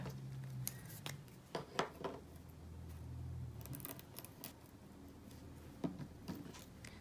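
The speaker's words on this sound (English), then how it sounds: "I'm just going to take a little bit of this paper that I just used to cut a thin little strip" Scissors snip a thin strip of crepe paper close up for crafting a mini carnation flower, a series of quiet, crisp cuts at irregular intervals with soft rustling between them.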